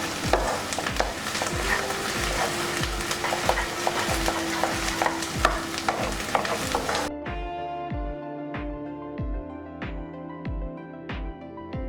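Onions fry in oil until golden brown for palak chicken, a constant sizzle with regular spatula stirring strokes, the hiss dropping away partway through while rhythmic scraping continues over soft music.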